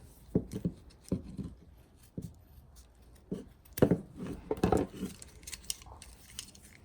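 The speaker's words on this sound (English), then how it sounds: "And I'm going to cut off the excess." Cutting away excess material while fringing a Louis Vuitton Saint Cloud GM bag, a series of close, sharp snips and crisp cuts scattered irregularly, some in quick pairs, with faint handling noise between them and no talk.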